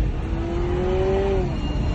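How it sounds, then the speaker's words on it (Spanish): A Honda Civic hybrid 2.0L engine revs up hard, its tone climbing steadily for over a second before easing off, over a constant road rumble, accelerating to about 80 km/h. "Inmediatamente un acelerón y ya estamos por los 80 kilómetros por hora."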